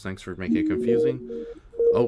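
Telephone dialing tones from a program opened by accident on a computer, a short run of sustained beeps mixed under and between people talking.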